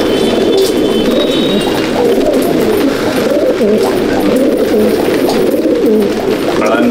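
Madrasi pigeons in a loft coo continuously in a dense, loud chorus of overlapping low, throaty calls close by, with no clear voices.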